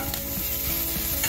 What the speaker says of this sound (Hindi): तो मैं यहाँ पे डाल रही हूँ ये 1 चम्मच जितना सेजवान चटनी, और इसको मिक्स कर दूंगी